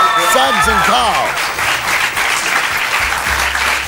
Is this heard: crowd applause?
yes